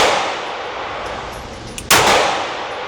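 A single sharp, loud pistol shot from a SIG P365 AXG Legion cracks at close range. It rings off briefly over steady outdoor background noise.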